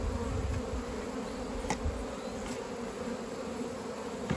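A steady, dense hum of many honeybees buzzing around a hive nearby, continuous and moderately quiet, with no voices.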